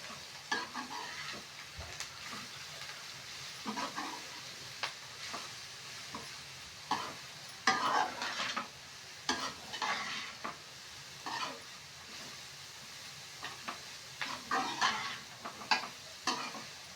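Grated carrot sautés in a pan with a soft, continuous sizzle, broken by repeated scraping stirs of a spoon against the pan, close and fairly quiet.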